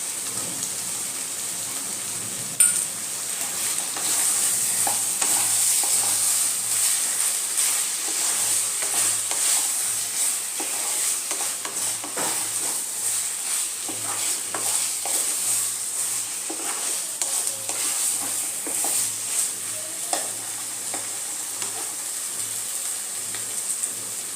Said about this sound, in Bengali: আবারও কিছুক্ষণ একটু কষিয়ে নেব, ঢেকে দেবো একটু।